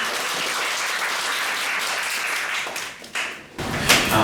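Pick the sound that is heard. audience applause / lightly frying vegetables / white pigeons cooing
audience applause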